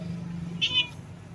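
A single short cat meow, fairly faint, rises briefly over a low steady background hum.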